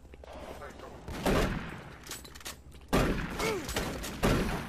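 Bursts of gunfire in the Doom 3 video game come in several loud, separated volleys, with a player talking between and over the shots.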